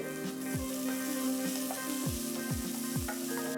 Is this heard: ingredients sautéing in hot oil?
yes